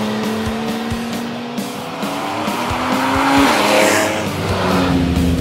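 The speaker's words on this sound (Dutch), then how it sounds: "ook voor het motorgeluid, dankzij het uitlaatsysteem" TechArt-tuned Porsche 911 (991) with a sport exhaust system and stock engine output, driven hard: a loud, continuous engine roar with rising and falling revs and sharp exhaust crackles, close and steady throughout.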